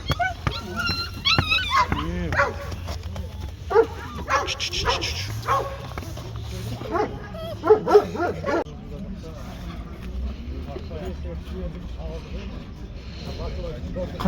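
Puppies for sale at a Kazakh livestock bazaar yip, bark and whimper in short high bursts, close by, while several people talk and haggle over them.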